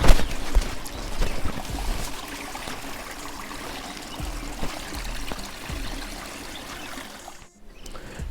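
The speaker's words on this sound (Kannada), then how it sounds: "ನೋಡಿ ಇಷ್ಟು ನೀರು ಹರ್ಕೊಂಡು ಹೋಗ್ತಾ ಇದೆ" Stream water flowing and trickling steadily at the Devagange ponds, with occasional splashes and knocks, fairly close, briefly dropping out near the end.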